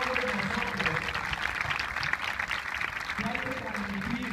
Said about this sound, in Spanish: Un aplauso para esa dama